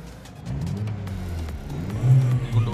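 A Ford Ikon car engine runs with a low, steady idle rumble that swells after a moment and climbs in a louder rev toward the end, close by with no talk.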